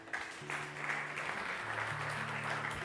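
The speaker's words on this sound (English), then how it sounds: "I want to give them a round of applause." Congregation applause during a Sunday service, a steady wash of clapping at low level, joined by sustained instrumental or organ-like tones underneath.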